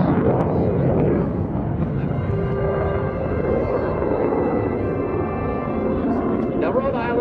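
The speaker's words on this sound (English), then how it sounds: "He's now going to light that afterburner and shoot straight up into the stars." Jet aircraft at the Rhode Island Air National Guard open house airshow lighting its afterburner, a loud continuous roar and rumble filling the whole stretch while an announcer talks over it.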